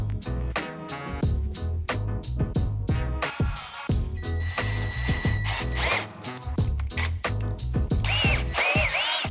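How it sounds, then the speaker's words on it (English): A non-fluted tap spun in a power drill chases a thread on a Barra wagon, giving repeated close, loud bursts of whirring drill with short pauses between runs, alone. "Using a non-fluted tap on a drill is not the solution to a harmonious finish in most cases"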